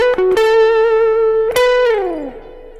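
Slow blues electric guitar lick: a few quick picked notes lead into a long sustained tone, then a second struck note that bends downward and fades, played cleanly and prominently.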